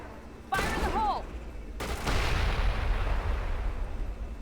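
A grenade goes off in the Mass Effect video game, a sudden loud blast followed by a second booming burst and a long rumbling, crackling tail of debris and ambience.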